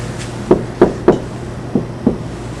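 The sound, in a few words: knocking on a locked basement door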